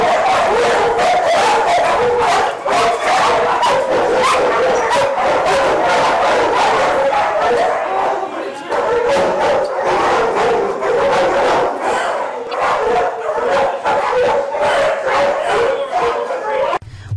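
Many dogs bark loudly and continuously inside an animal shelter kennel area, overlapping yips and howls echoing throughout with a crowd-like din.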